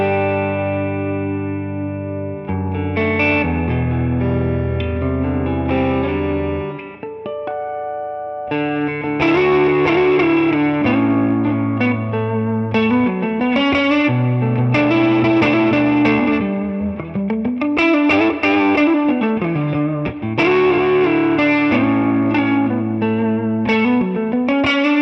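A vintage 1957 pre-CBS Fender Stratocaster on its neck pickup plays a melodic passage of chords and single-note runs, amplified with a slightly driven, chorused tone, clear and close throughout with no talking.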